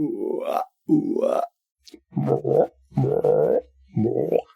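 A voice imitates a frog's croak in a series of low, guttural, drawn-out croaks, five bursts separated by short pauses, loud and close.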